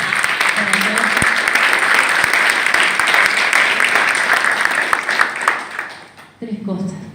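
A crowd applauds at a student martyrs' day ceremony, a sustained wash of clapping that fades near the end before a voice begins speaking.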